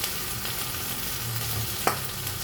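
Garlic and onion sautéing in a pan for pansit bihon, a steady hiss of frying with one sharp scrape of a utensil near the end.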